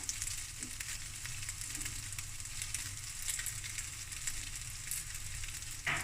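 Oyster fried rice sizzling in a hot pan with sesame oil, a steady, even frying hiss heard close and moderately quiet, with no talking.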